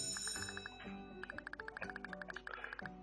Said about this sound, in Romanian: Ăsta-i clopoțelul, toată lumea în avuntru.